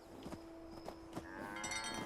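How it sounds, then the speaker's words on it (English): A cow in the Fallout 76 video game lets out a low drawn-out moo against a faint background hum, one short call heard close and clear with no talking. "Hurry up, cow. Moo, exactly."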